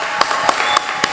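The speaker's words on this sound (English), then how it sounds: "Please give her a round of applause." At a school debate between Glen Stuart and Balaclava in Jamaica, scattered applause greets the best speaker, with four distinct, evenly spaced claps standing out over a steady background murmur.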